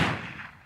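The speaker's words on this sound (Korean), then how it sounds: "총성이 울린다" A single gunshot sound effect cracks loud and close at the start, then decays into a rumbling tail that fades over the next half second.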